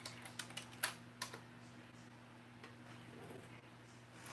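Typing on a computer keyboard: a handful of light, sparse keystrokes clustered early on, faint and close over a steady low electrical hum.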